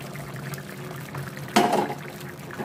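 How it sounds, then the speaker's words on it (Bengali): Four pieces of rohu fish dropped into a simmering bottle gourd curry, a single brief splashing plop over a quiet bubbling background. "আমি চারটা মাছ দিয়ে দিলাম"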